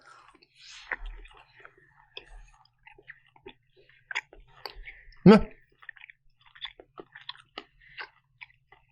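Someone chews long, thin beef jerky made from eye of round after it has sat on a shelf for a long time. Sparse, close mouth clicks and soft crunches come in irregular bursts, with one louder bite partway through and quiet voices around it.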